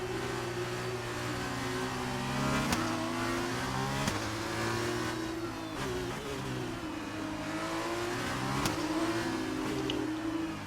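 An F1 2019 racing game car accelerates hard through the last corner, its high engine note climbing and dropping as gears shift, a loud, continuous whining roar with no one talking.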